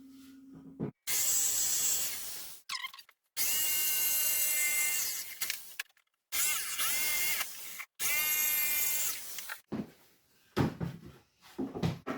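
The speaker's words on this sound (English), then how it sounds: "I'm going to do it with my jigsaw because it's closer to hand than any of my other tools." A jigsaw cuts wood for a children's chair in four loud, close bursts of buzzing, rasping blade strokes, separated by short pauses, followed by a few quieter knocks and handling sounds.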